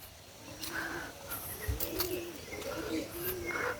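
Large pigeons coo in soft, low, throaty bursts that repeat over steady outdoor background noise in the Bibhutibhushan wildlife sanctuary forest, with a few faint chirps mixed in.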